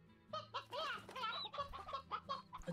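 Chickens in the video game Slime Rancher cluck in a quick, irregular series of short calls, close and clear over a faint low game hum.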